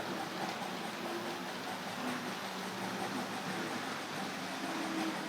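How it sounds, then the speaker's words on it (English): A faint, steady rumble of a small Hornby model freight train running along its track, a continuous low whir with a few soft squeals. "I can hear that Freightliner coming back in."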